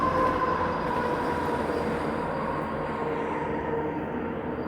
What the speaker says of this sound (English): There goes a GO train.